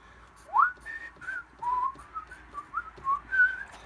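A person whistles a wandering, breathy tune of short rising and falling notes, close by and fairly clear, with no talking.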